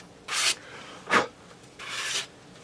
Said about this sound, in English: got some 240 grit paper and just lightly sanding over it